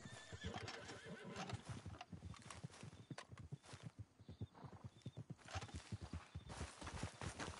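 A horse in Red Dead Redemption 2 rides away with a steady, rapid clip-clop of hooves and repeated whinnies, fairly close, over faint game ambience and no speech.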